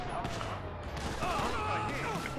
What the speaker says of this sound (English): There's all kinds of people shooting over people.